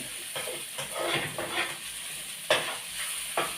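Pork and garlic stir-frying over low heat in a pan, with soft sizzling and a few distinct scraping stirs of a spatula, close and fairly quiet.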